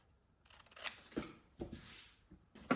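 Scissors cutting paper pieces for a printable retro movie folio craft kit, a few quiet close snips and slicing strokes in a still room.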